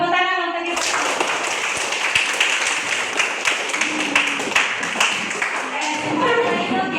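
A school class claps their hands together in a classroom, a brisk burst of many hands that starts abruptly after a moment of talk and carries on for several seconds, with voices heard before and after.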